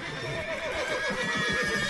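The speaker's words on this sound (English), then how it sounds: "Would you calm down, horses? You're making me nervous." Horses neigh and whinny continuously in The Witcher III Wild Hunt, a close, steady, shrill sound with no talking.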